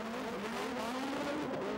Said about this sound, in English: one of the joys of these cars is, of course, their high and willing revving engines